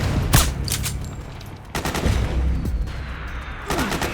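Gunfire in the Metal Gear Solid 4 video game: sharp, close shots and short bursts crack out every second or so over a steady battlefield rumble, with no voices heard.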